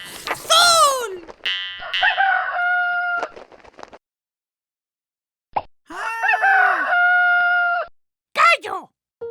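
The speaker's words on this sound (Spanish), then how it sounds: "¡Gallo!" A cartoon-style rooster crows cock-a-doodle-doo loudly twice, with clear pauses between the calls and a short final cluck-like burst at the end.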